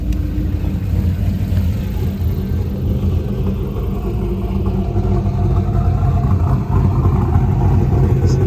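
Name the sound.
2002 Pontiac Trans Am WS6 idling with BTR Stage 2 cam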